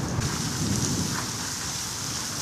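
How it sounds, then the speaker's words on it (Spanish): Rain pouring during a thunderstorm, a dense steady hiss of falling drops with low rumbling beneath, continuous and fairly close for the whole stretch. "Llovió, esos están cayendo rayísimos. Terribles."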